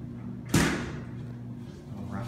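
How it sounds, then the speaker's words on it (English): A 1987 Amtech hydraulic elevator door in a hotel closes with a single sharp thump, then the hum of the lift settles in behind it. "Watch the door close."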